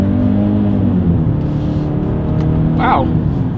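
A 2021 Genesis GV80 midsize luxury SUV pulls out onto a road in first gear, its engine note a steady hum that climbs in pitch as it accelerates, heard from inside the cabin.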